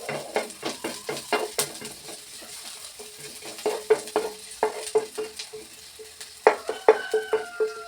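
Pink salmon and misua noodles are stir-fried in a pan, with repeated close, rhythmic scrapes and clinks of a utensil against the metal over a soft sizzle.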